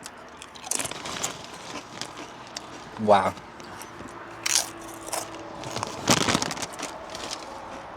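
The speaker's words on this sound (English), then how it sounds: "The crunch on them, oh my god." Potato chips crunch loudly in sharp, close bites in a van, a few distinct crunches spread across the moment, with someone talking quietly between them.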